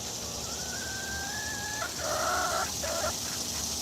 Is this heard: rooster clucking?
yes